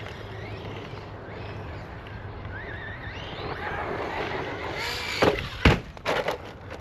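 A Redcat Valkyrie MT RC monster truck whines along, then slams into the side of a ramp with a couple of sharp, loud thuds near the end.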